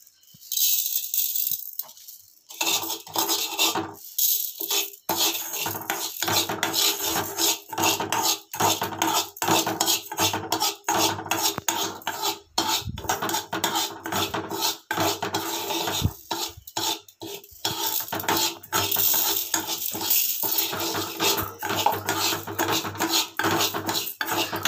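Rice grains stirred into a melted coloured mixture in a pan, giving a steady close clatter of utensil scraping and rattling against the pan with scattered sharp clicks.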